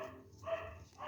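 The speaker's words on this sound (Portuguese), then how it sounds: "o cachorro aqui do vizinho não para de latir" A neighbour's dog barks in short, faint yaps from some distance away, just a brief burst or two.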